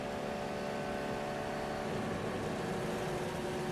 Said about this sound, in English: It's the rev limiter again in the Cadillac.